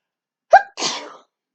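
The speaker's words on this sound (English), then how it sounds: "I'm not going to start this video over because I sneezed" A single loud sneeze, a quick sharp intake followed by a breathy burst, then silence.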